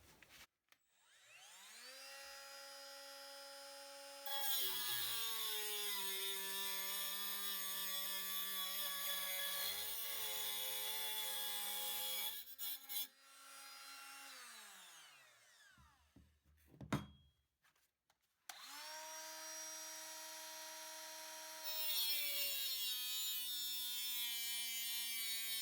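A Parkside 12V cordless 76 mm angle grinder, model PWSA 12 B1, whines up to speed and cuts in long, high, buzzing stretches, briefly dropping out and restarting, with clattering in between.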